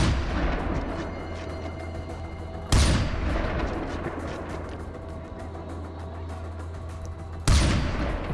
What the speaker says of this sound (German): die laute Waffe bedeutet nicht sofort, dass sie genau wissen, wo wir sind